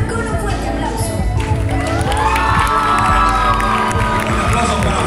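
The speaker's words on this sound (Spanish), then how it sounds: "Démosle la bienvenida con un fuerte aplauso." An audience at a university conference hall bursts into loud, sustained cheering and applause, with whoops and shouts blending into a dense crowd roar that holds steady throughout.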